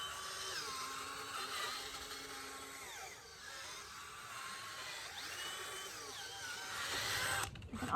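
A 3-inch by 24-inch auger bit on a power drill boring into garden soil, a steady whining motor hum with shifting pitch as it labors, faint and continuous with no voices.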